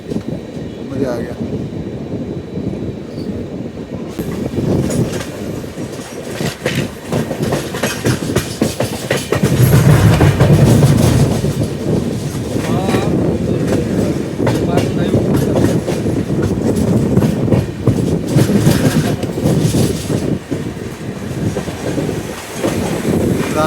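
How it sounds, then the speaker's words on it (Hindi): A Rajdhani Express rushes past at high speed on an Indian railway, heard from aboard another train: a loud, sustained roar with rhythmic wheel clatter and wind buffeting, and a voice under the din. "कोई राजधानी ही थी जो निकली है। क्या बढ़िया स्पीड में निकली है"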